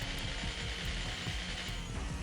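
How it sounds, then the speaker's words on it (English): Minigun switched to its power-drill secondary mode in Perfect Dark, a continuous mechanical whirring ratchet with rapid clicking pulses, steady and close with no pauses. "Like the one that changes your minigun into a power drill."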